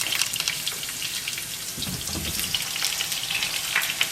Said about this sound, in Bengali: আলুর সঙ্গে টমেটোটাও ভাজা হবে